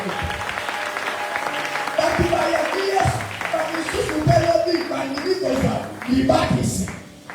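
An audience at a church gathering claps and cheers for Jesus, a steady wash of applause with scattered louder bursts running the whole time under a voice speaking.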